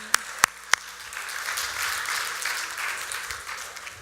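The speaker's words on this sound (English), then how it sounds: "So you can clap for Ken." An audience at a talk claps for Ken Perry, a local man, opening with a few sharp single claps and then settling into a softer, sustained wash of applause, moderately distant.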